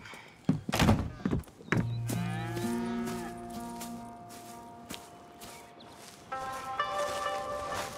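Cattle moo in Red Dead Redemption 2: after a few dull thunks, one long, drawn-out low moo rings out nearby, followed by a second shorter bellow near the end.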